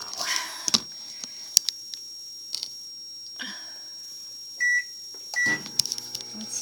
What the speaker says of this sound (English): 2/3 cup of snow going into my microwave now